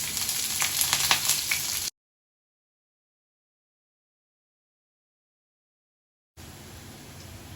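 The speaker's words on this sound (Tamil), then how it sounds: "ஆயில் சூடானதும் ஒரு 1/4 டீஸ்பூன் உளுத்தம்பருப்பு, 1/4 டீஸ்பூனுக்கும் கொஞ்சம் கம்மியாக கடுகு" Mustard seeds, urad dal, shallots and curry leaves tempering in hot oil for coconut chutney give a dense crackling sizzle that cuts out into silence partway, then returns more softly near the end.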